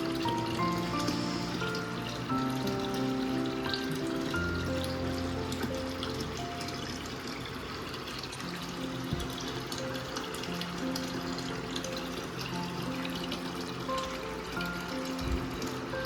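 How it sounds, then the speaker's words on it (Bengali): Aquarium water being drawn out through a pipe during tank cleaning, a steady rushing, trickling flow that runs continuously and fairly close, with no talking. "এই পাইপটা দিয়ে জলটা টানলে না, জলটা অনেক তাড়াতাড়ি চলে আসে"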